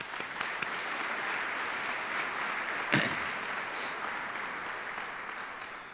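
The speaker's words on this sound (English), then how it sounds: "Let's give him a round of applause, please." Steady audience applause fills a military retirement ceremony hall, many hands clapping evenly at a moderate, slightly distant level, with one sharp louder clap near the middle.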